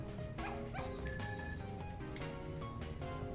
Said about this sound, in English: It's one of my dogs.